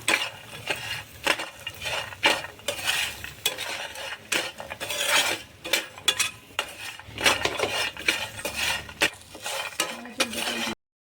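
Spoon stirring and scraping in a small kadai on a stovetop, with a soft sizzle of frying underneath; irregular clinks and scrapes come in bursts at close range, with no talking.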